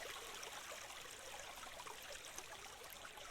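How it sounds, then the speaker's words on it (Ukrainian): Water trickling and running downward beside a path near a cave, a soft continuous hiss of flowing water at low volume, steady throughout with no talk. "Бачите, вода стікає донизу"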